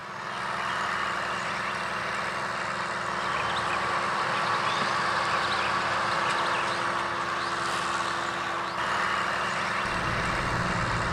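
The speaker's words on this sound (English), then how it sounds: "we're videoing these tractors. They're still 150 yards away." Tractor engines about 150 yards away rumble and drone steadily, a continuous low mechanical hum with no voices.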